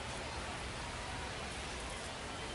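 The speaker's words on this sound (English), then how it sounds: "even though we've had the rain coming down" Steady rain falling over a nighttime minor-league baseball game between the San Antonio Missions and Corpus Christi Hooks, a dense even hiss of rainfall filling the whole stretch without pause or change.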